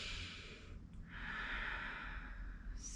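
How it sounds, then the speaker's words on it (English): A single deep breath taken during a yoga practice, soft and close. It is a long, airy exhale that dips for a moment and then continues steadily, with no talking. "maybe even giving ourselves a moment to practice, and an extra deep breath"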